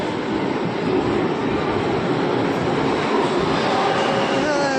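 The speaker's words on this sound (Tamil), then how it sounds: "பெங்களூர் மெட்ரோ." A Bangalore metro train arrives at an underground platform, a loud continuous rumble and roar holding steady throughout with a faint rising whine near the end.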